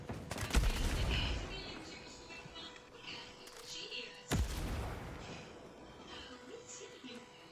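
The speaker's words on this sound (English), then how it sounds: "Somebody shooting at me." Gunfire in the video game Ghost Recon Breakpoint: a couple of sharp distant-sounding shots and a scattered volley amid a busy, rumbling game soundscape, moderately quiet overall.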